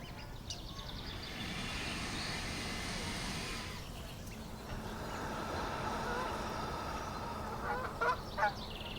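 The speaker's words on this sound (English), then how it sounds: "Oh my gosh, look at those geese flying in formation." Geese flying in formation honk a few times, faint and distant over a steady outdoor hum on a village green walk, with a couple of clearer calls near the end.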